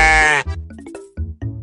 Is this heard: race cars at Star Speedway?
no